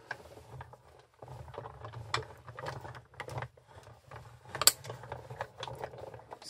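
A manual die-cutting machine is cranked by hand to roll a cutting plate through on a papercraft card, giving a run of quiet irregular mechanical clicks and ratcheting clunks with short pauses, close and alone.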